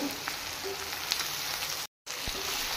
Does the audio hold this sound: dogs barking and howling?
no